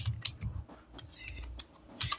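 Someone types on a computer keyboard while filling in bank form details, giving quiet, close, irregular key clicks over a soft background hum.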